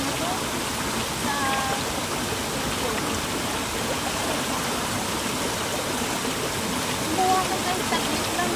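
River water rushes and splashes in a steady broadband wash at close range, continuous throughout, with people talking intermittently over it.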